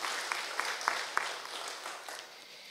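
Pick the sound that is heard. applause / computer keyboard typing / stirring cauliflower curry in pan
applause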